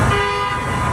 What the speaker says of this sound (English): That sound of honking is waking up neighbors lately in this South of Market neighborhood.